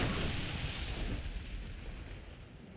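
Fire-spewing beetle firebomb from Hunt: Showdown gives off a loud, continuous roaring burst of flame and rumble that slowly fades over a few seconds, with no talk.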